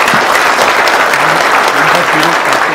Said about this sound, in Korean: 자축하는 의미에서 박수 한번